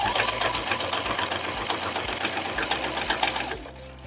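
A sewing machine runs steadily and fast, stitching a straight seam along the edges of a fabric leaf-shaped coaster, a close, even mechanical whir that stops abruptly near the end.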